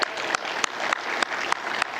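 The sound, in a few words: audience applause at literature festival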